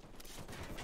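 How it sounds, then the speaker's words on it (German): Gunfire in Ghost Recon Wildlands: a short, faint burst of rapid shots crackles in quick succession, over in under a second. "störender Beschuss"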